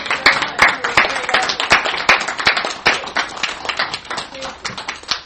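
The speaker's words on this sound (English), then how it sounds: "can we give her another round of applause, please?" Audience at a veterans' coffee house event at an American Legion gives a round of applause, with dense, steady clapping from many hands close by and a few sharper individual claps standing out throughout.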